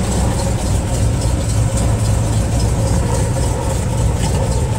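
A 1973 Cadillac Superior hearse engine runs steadily at idle, a close, continuous low rumble with an even, unbroken throb and no voices.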